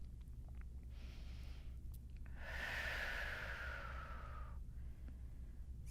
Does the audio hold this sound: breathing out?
yes